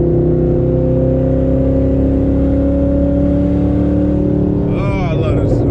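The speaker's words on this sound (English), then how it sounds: "I don't know if y'all can hear the sounds of the turbos and stuff like that" Twin-turbo Ford Mustang Boss 302 engine heard from inside while driving, a loud steady drone with a rising whine, then a sharper rev and turbo whoosh near the end.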